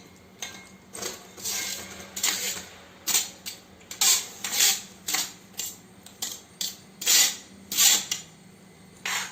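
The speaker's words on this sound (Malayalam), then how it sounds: "ഇതിനെ ഉരുളിയിലിട്ട് നന്നായിട്ട് ഇങ്ങനെ വരട്ടി ആ വെല്ലത്തിൻ്റെ വെള്ളമൊക്കെ വറ്റിച്ചെടുക്കണം" Cooked ada being stirred into jaggery in an uruli: a steady run of close, sharp scraping and clinking strokes, about a dozen in quick uneven rhythm, with no talking.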